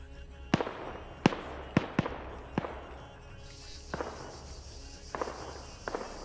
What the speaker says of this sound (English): Heard a flashbang go off